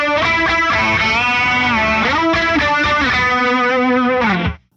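An electric guitar with a distorted, effects-laden tone imitates a string bend on an open string, a loud held note that slides up and down in pitch over a few seconds before being cut off abruptly.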